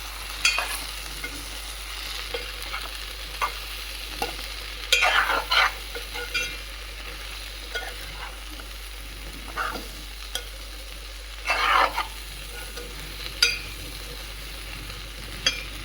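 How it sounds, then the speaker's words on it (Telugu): Prawn and okra curry with eggs being stirred in a pan, a soft ongoing sizzle broken by scattered scraping strokes of a spoon against the pan, close and fairly quiet. "ఈ విధంగా వేసి తర్వాత బాగా కలియబెట్టాలండి"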